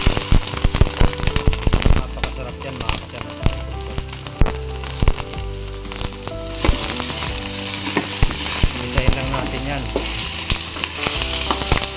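Pork ribs and tail sizzling loudly in a pan with onion, garlic and ginger for sinigang, a steady close crackle with clinks of stirring throughout.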